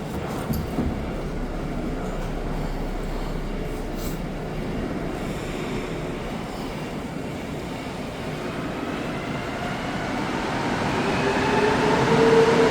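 A Montreal metro train rumbles and hums through the station, a steady low drone that swells louder toward the end as the train nears, with faint tonal whines rising above.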